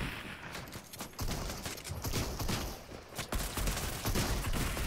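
Distant gunfire in a Fortnite match, rapid rattling volleys of shots running continuously, faint and fairly far off, with no talk over it.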